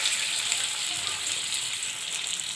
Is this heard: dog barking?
no